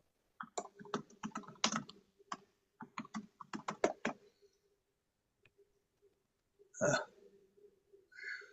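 Keys struck hard on a computer keyboard produce bursts of close, sharp clicks in quick runs. A pause follows, then a few isolated taps and one louder burst.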